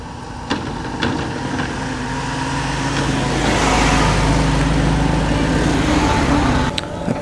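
A classic Ford Mustang, likely with a manual gearbox, runs at an outdoor classic car show, its engine a steady, close rumble that swells as it draws nearer and passes, with a few sharp clicks around it.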